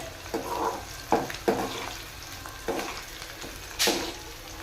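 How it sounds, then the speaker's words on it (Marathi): Crushed garlic fries in hot oil for Diwali chivda, giving bursts of loud sizzling and spattering in several separate waves, with stirring in between and one sharp hiss near the end. "तर तुम्ही फक्त तो कढीपत्ता तळण्या अगोदर तुम्ही लसूण तळून घ्या"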